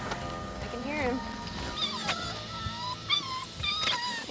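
A puppy at a kennel seizure in Houston gives thin, high, wavering whines over dense background noise and overlapping talk.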